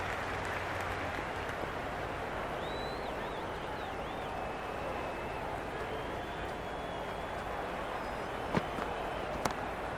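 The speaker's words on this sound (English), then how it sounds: "The crowd are loving it." Crowd roar in the cricket video game Cricket 26, a steady broadband wash of cheering spectators that stays fairly even throughout, with a few sharper bursts near the end.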